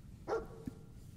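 Dogmeat, the dog companion in Fallout 4, gives a single quiet bark over a low game ambience, followed by a short, softer yip.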